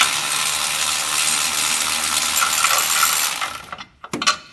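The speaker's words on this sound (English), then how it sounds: "We should be able to use my ratchet now." Rapid, loud metallic ratcheting as a ratchet spins out galvanized bolts from the rear differential support bracket of a Ford Expedition, then a few sharp clinks.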